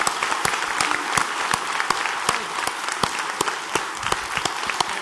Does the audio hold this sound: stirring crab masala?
no